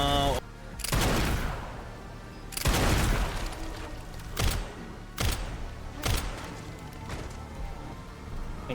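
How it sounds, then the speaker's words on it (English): Submachine gun fire in Resident Evil 9, heard as several loud, hard bursts and shots spread through the stretch amid game noise and booming impacts, with no talk. "there's a guy out of sight underneath me that only wakes up with a submachine gun"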